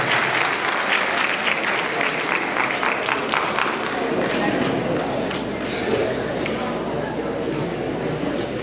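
Sustained applause at a school graduation ceremony, with a large crowd clapping loudly and continuously throughout, while a voice speaks over the clapping.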